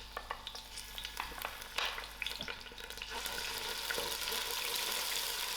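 Onions dropped into hot oil for spicy loki dhal: scattered scrapes and taps at first, then a steady, even sizzle swells and holds, close up, with no talking.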